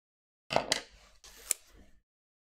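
Scissors snipping a paper sticker sheet, two short bursts of quiet, close crisp cutting strokes separated by a brief pause, with silence before and after.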